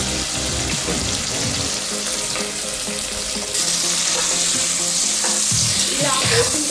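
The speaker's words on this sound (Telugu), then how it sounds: "ఇలా ఫ్లేమ్లో వేసుకొని ఒక 5-10 నిమిషాలు ఆయిల్ వేసి వేయించుకోవాలి." Chopped onions sizzle and crackle in hot oil in a pan on the flame for Telangana-style goat head curry, a loud steady frying hiss with stirring, rising in intensity midway.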